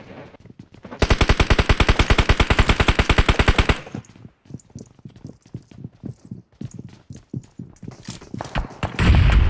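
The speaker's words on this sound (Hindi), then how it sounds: "पीछे से शॉट्स आ रहे, देख के देखो" Rapid automatic gunfire from a battle royale video game: a loud, continuous burst of about three seconds, followed by scattered single shots and shorter volleys at varying distances.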